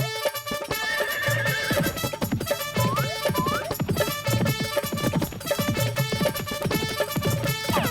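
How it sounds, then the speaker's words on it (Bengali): Cartoon horse neighing, a loud whinny in a comedy animation about a robot horse, heard over busy background music with some hoof-like clatter throughout. "এই ঘোড়া তো খুবই ভয়ানক"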